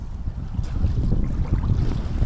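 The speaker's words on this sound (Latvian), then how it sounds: "Tāds vējš pretīgs ārā," Steady, heavy wind buffeting outdoors in Rēzekne, Latvia, a continuous low rumbling roar with gusts swelling and easing, no voices.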